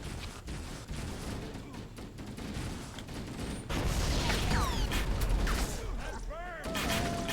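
Plasma weapon fire in Halo: Combat Evolved Anniversary, rapid bursts of sci-fi shots with whooshing, warbling sweeps and a rumbling low bed, loud and continuous through the game action.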